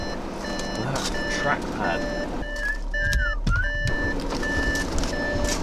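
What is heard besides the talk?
car parking sensor beeping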